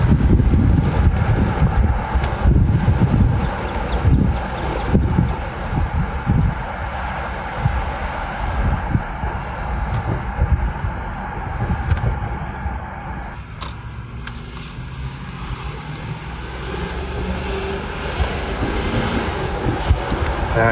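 A 1998-2003 Jaguar XJ8 X308 engine accelerating on the road, a steady broadband roar with road and wind noise, loud and continuous from inside the car, no talk.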